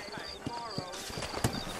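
Rhythmic hoof clops from horses walking slowly out of town in the Red Dead Redemption game world, New Austin, evenly spaced and moderately near, with a sharper knock near the end.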